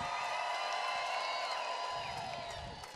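An audience at a Tiki Oasis stage show cheers and whoops, a steady wash of crowd noise with scattered shouts and applause, somewhat distant and fading toward the end.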